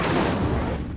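A fiery Incendio spell cast in the video game Hogwarts Legacy: a loud, sustained burst of roaring whoosh and rumble over one second, dense and explosive with no pause.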